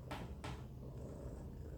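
A small cat purring steadily up close, a soft continuous low rumble, with two brief bright rustles or knocks near the start.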